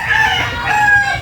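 A loud, close chicken call rings out with drawn-out, wavering tones over a faint low rumble, with no talking.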